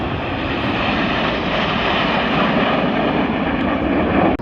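Display jet pulling a hard left turn at the Midlands Air Festival, a loud sustained broadband engine roar that holds steady and swells slightly before cutting off abruptly at the end.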